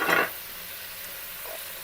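Mutton sizzles in a pan with ginger garlic paste, starting with a short, loud burst of stirring and scraping that settles into a soft, steady frying hiss.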